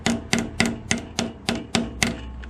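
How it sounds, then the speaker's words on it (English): A hammer pounds pins into the handle of a Sarge SK-404 custom knife kit, nine evenly spaced sharp metallic strikes in quick steady rhythm, close and loud, with no talking. "And then we're gonna pound it with a hammer."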